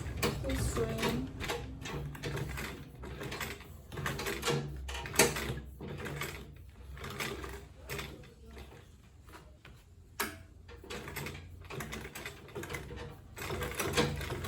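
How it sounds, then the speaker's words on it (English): Sewing machine stitching an Ankara fabric bag in stop-start runs of mechanical whirring and ticking, close by, with pauses between passes and speech in the background. "Keep sewing."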